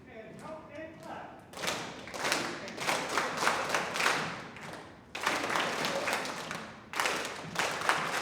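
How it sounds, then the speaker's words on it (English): Band students in a sixth-grade music class clap together in counted bursts, sharp group claps and thumps arriving in uneven clusters with brief pauses between rounds, under a teacher's voice counting aloud. "Count and clap one more time, guys."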